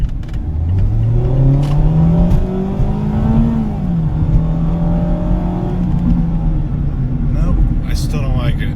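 A Mazda Miata RF's engine revs up steadily, its droning note climbing in pitch over several seconds, loud and close from inside the car, then easing and climbing again, with a driver talking over it.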